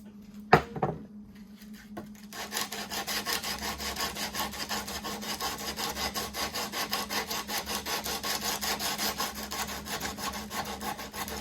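Abrasive sanding on a steel hunting/camp knife blade at 320 grit: steady, continuous rhythmic rasping strokes, fairly close and moderately loud, preceded by a few sharp knocks at the start, with no talking.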